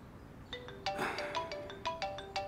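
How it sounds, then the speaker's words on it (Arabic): A mobile phone ringtone plays a bright, repeating melodic pattern of short electronic notes, moderately close, with no talking. "شو ما بدك ترد على الموبايل؟"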